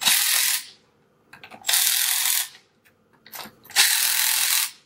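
Ratchet tightening bolts during a GX5 diaphragm repair, three bursts of fast, close mechanical clicking with short pauses and light tool handling between them.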